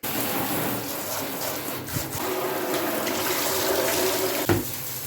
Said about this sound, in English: And then I just use the shower head to rinse everything down.